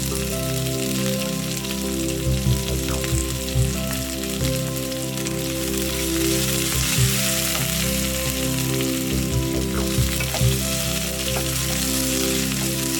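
A small chopped onion sautés in a hot pan, giving a steady, close sizzle and crackle throughout with occasional stirring clatters, and no one speaks.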